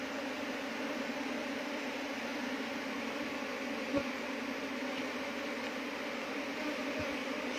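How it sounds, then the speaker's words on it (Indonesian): Worker honeybees buzz at an open hive, a dense steady hum filling the air without pause, moderately loud and even throughout, with no voices. "Ini lebah pekerja."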